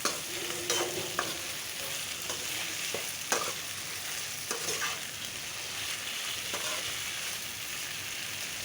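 Eggplant curry is stirred in hot oil in a pan, a constant soft sizzle with occasional scraping and tapping of the spoon, close by and fairly quiet.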